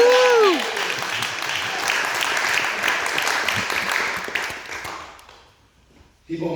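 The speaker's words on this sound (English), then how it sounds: "Let's give them another round of applause" A crowd at a Maimonides school ceremony in a synagogue applauds the students, steady full clapping after a whooping cheer, fading to near quiet before a voice starts speaking.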